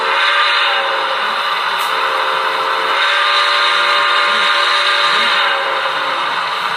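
A continuous multi-tone steam whistle sounds steadily for several seconds with mild swells, alone and at even volume, played through an ESU LokSound decoder on a Lifelike 080 model locomotive.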